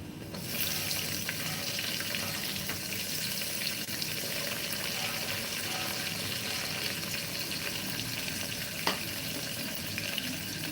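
Chopped onion frying in a pan for rajma masala rice, a steady, close broadband sizzle that holds evenly throughout with one brief sharp crackle near the end.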